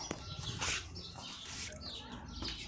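Chicks in a coop give high, bright peeping chirps in short repeated bursts, quite close, with faint scuffling and low background noise between the calls.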